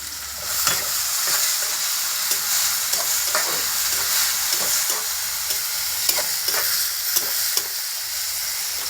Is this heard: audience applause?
no